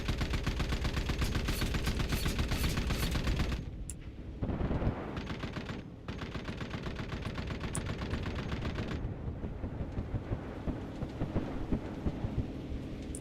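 Bombs explode in the Armored Core 6 video game as a dense, loud, rumbling barrage of blasts and rapid fire that rolls on almost without pause, with a couple of brief drop-outs between bursts.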